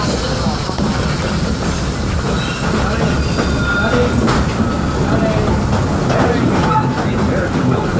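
A Disney theme park train, the Walter E. Disney locomotive, rolls steadily along its rails with a continuous close rumble and faint metallic wheel noise, and voices and announcements sit underneath throughout.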